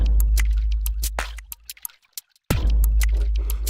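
Sampled water drips and splashes, recorded as a session and played back in a rhythmic groove, form loud, tight repeating pulses that cut out briefly midway before resuming.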